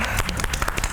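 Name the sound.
applause from studio audience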